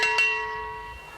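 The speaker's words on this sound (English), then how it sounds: "the farmer wanted to know in the field where his cow was, he'd listen to the sound of the bell." A cowbell in a field is struck twice in quick succession, with a bright metallic clang that rings out and fades slowly over about a second.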